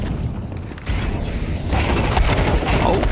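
Rapid SMG bursts and USP pistol shots in a Counter-Strike 2 match on the Anubis map, dense crackling gunfire that grows louder partway through, mixed with game ambience.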